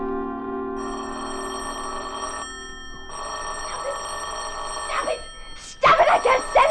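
Telephone bell effect from a 1950s suspense radio drama, ringing in long repeated bursts with short gaps, fairly loud, before a voice breaks in near the end.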